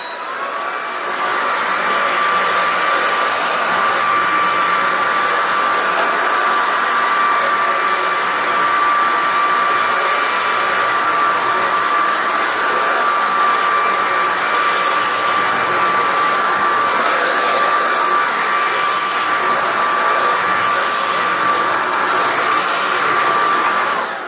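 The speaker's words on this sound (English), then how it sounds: "Let's run over this stuff here, shall we?" Powerffy cordless vacuum cleaner running over carpet with its carpet spinner brush, a steady loud motor whine and airy roar that holds constant throughout with no talking.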